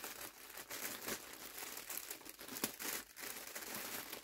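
Blue wrapping paper crinkled and rustled close by, with continuous crackling handling and a few sharper crumples, no talk over it.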